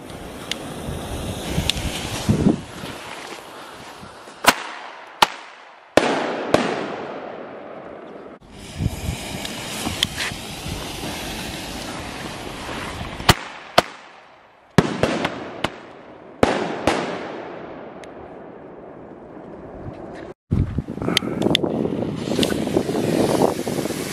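Consumer fireworks of the Tunnel King type go off in a rapid series of loud cracks and bangs outdoors, with crackling bursts, wind noise and short gaps between volleys.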